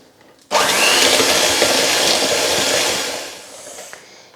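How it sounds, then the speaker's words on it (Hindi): An electric whisk starts abruptly after a brief quiet moment and whirs loudly while beating cream cheese with caster sugar, then the sound eases slightly toward the end. "अब इसको हम विस्क करते हैं।"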